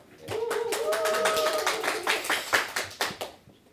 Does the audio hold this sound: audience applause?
yes